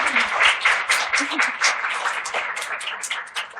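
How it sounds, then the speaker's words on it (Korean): Audience at a Korean radio book talk on mental health applauding the author, a dense burst of clapping that fades slightly over a few seconds. "오늘 풍성한 이야기를 전달해주신 작가님께도 다시 한번 큰 박수 부탁드리겠습니다"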